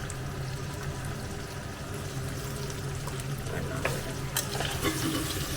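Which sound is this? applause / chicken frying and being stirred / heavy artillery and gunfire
chicken frying and being stirred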